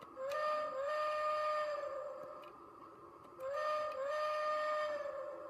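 A Lionel G gauge battery-powered toy train whistle sounds twice, each a bright two-tone hoot lasting a few seconds, with a faint mechanical ticking underneath.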